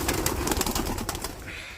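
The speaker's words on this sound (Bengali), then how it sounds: "আমাকে দেখে সব কবুতরগুলো সব বের হয়ে গেছে" Pigeons from a large domestic flock gather on a sunny village rooftop, giving soft, overlapping calls and fluttering in a busy, continuous stream close by. The sound fades slightly toward the end.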